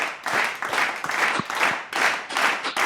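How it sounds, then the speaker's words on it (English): Sustained applause and clapping from a small group of sports podcast participants, a dense steady patter of hands lasting throughout with slight swells, close and fairly loud. "So give yourselves a big round of applause."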